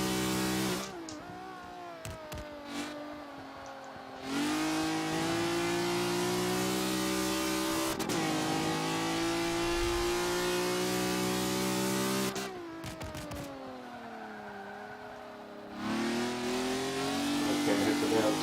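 A tuned race car in a driving game revs hard through a run, its engine note climbing and dropping between gear changes with short breaks, loud and continuous as someone talks over it.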